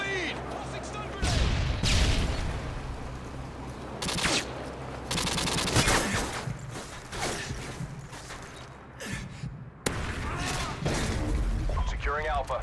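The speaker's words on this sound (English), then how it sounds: "Tossing stun grenade!" Stun grenade tossed during a firefight in Modern Warfare 2, with bursts of automatic gunfire and sharp blasts recurring through the stretch, loud and close, while voices shout over the combat.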